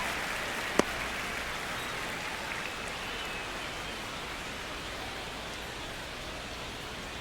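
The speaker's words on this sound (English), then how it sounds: "the field's not going to be able to hold up if the rain gets any worse than this" Rain falls steadily on a baseball field in the video game MLB The Show 26, a constant broadband hiss with one brief click, no talk.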